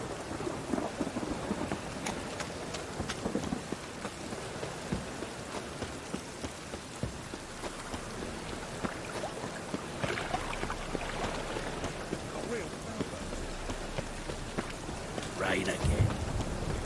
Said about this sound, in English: Rain again.